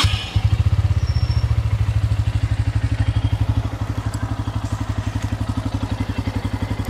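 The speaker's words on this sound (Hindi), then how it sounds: "तो ये इंजन का साउंड है ऑयल चेंज होने के बाद।" A Bajaj Pulsar N160 motorcycle engine idles close by after an oil change at its first service, a steady, rapid thumping pulse, loud and even, with a faint background hiss.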